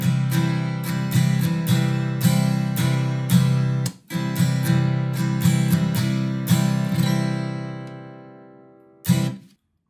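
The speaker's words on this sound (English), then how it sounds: "So now if I play this strumming pattern for you, it's going to sound like this." Acoustic guitar played with a repeated strumming rhythm, crisp rhythmic strokes ringing strongly in a steady pattern that plays through twice with a short break between, ending with a final strum left to decay and fade.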